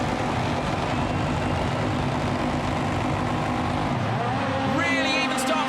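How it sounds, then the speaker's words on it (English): A rallycross Supercar engine roars loudly and continuously at the 2017 World RX of Great Britain final, revving higher near the end, with voices faintly beneath. "Revs her up."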